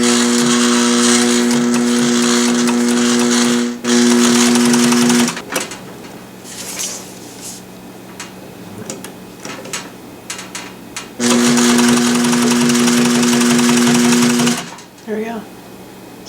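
A sewing machine stitches nylon webbing onto a tactical dump pouch in two loud, close, steady whirring bursts, with a pause between them where a person talks and handles the fabric.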